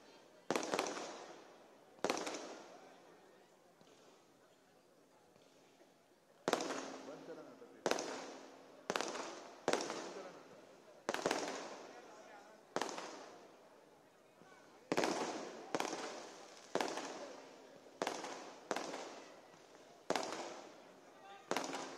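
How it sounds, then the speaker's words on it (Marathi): A rapid string of loud firecracker bangs at a political rally in Kalyan, Maharashtra, each sharp crack ringing out briefly, coming in uneven bursts and then a quicker, steady volley. "कृपया फटाके ताबडतोब बंद करा"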